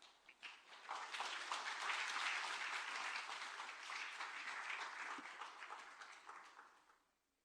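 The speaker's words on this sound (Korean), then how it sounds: "우리 올라오실 때 우리 박수로 또 환영해 주시기 바랍니다." A church congregation claps to welcome a guest preacher to the stage at a Sunday service, a full, even round of applause that rises quickly, sustains, and fades out near the end, heard at a moderate distance.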